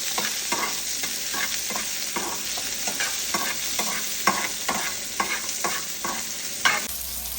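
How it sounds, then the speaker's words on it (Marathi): Onions for butter chicken sizzle and fry in a pan, a steady bright hiss broken by regular stirring scrapes, close and fairly loud with no voices. "लालसर होईपर्यंत कांदा भाजायचा."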